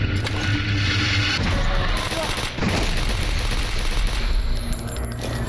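Sustained automatic gunfire in the shooter Stalker Anomaly, loud and close, with dense rapid bursts running almost the whole time and a short break partway through.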